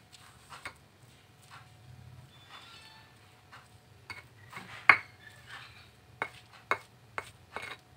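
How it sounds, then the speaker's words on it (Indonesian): Oncom being coarsely pounded and stirred in a bowl, a few scattered clinks and knocks of utensil against the dish with soft scraping between, close and fairly quiet. "tinggal ditumbuk kasar seperti ini aja sambil diaduk sampai rata ya bunda"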